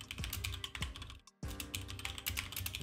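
Rapid keystrokes clatter on a computer keyboard as someone types a chat message during an online Pokémon Scarlet & Violet battle. The typing is close and busy, with one brief pause partway through and no voices.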